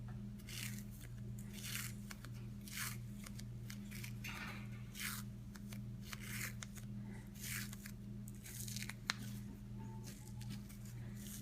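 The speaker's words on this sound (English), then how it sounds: "You just fold the tape and start wrapping it backwards." Adhesive tape being folded and wrapped around a Doberman's ear, faint repeated crinkly tearing and rustling strokes over a steady low hum, close but quiet.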